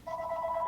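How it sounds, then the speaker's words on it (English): A brief telephone ring, a steady electronic two-tone trill that sounds quietly and alone for under a second. "Whose phone is ringing?"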